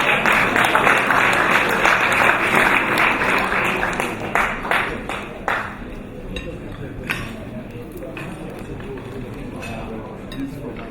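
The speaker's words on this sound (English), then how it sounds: "Please give me a big round of applause, everybody" An audience at a London business event claps for Dr. Charles Akinola, the applause loud at first and then thinning to scattered claps, with a voice speaking over it.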